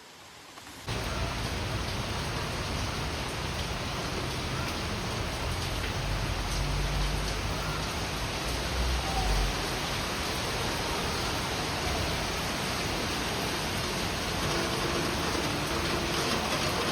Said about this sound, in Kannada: ಅಷ್ಟರಲ್ಲಿ ಫುಲ್ ಜೋರಾಗಿ ಮಳೆ ಬಂದುಬಿಡ್ತು.